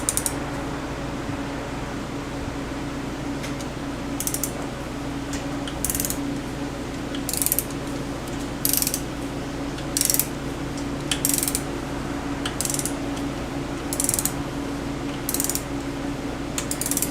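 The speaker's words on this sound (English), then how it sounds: "So let me start here with our torque wrench." A torque wrench tightening bolts on a Yamaha Commando motorcycle, with sharp ratcheting clicks in spaced bursts every second or so over a steady mechanical hum, close and clear.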